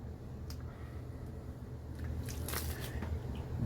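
A soapy sponge squishes wetly during washing, giving soft, repeated squelches and a few sharper wet bursts over a low background hum, close with no talk.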